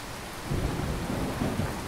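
Thunderstorm in an audio drama: a steady wash of rain with low rumbling thunder swelling midway and holding, moderately loud, no voices.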